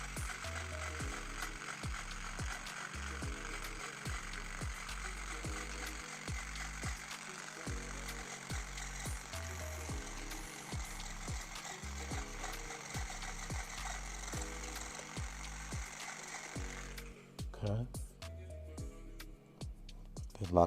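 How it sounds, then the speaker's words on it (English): A Klixer dreadlock machine works hair into a lock, giving a steady, fast mechanical ratcheting clatter with a rhythmic low thump throughout, loud and close, then briefly breaking up near the end. "You see your lock forming with the Klixer Dreadlock Machine."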